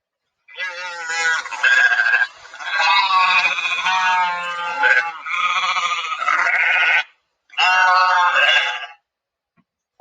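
Several sheep bleat loudly in long, wavering calls, one after another with short pauses between.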